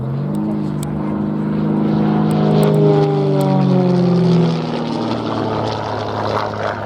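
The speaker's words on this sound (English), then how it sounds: "The gears are a lot quieter with that four-blade propeller." A propeller-driven aerobatic aircraft with a four-blade propeller performs at an airshow, its engine droning steadily with a rising and falling pitch sweep as it passes, fairly loud and alone with faint distant background noise.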